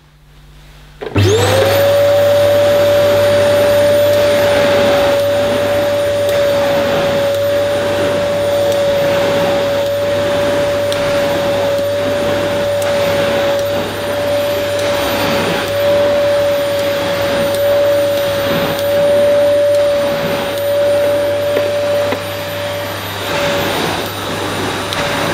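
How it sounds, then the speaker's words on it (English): A Hoover Telios 700-watt cylinder vacuum cleaner switches on and runs continuously with a loud, steady whine and airy roar, close up, with slight changes in pitch near the end. "for a 700 watt vacuum cleaner"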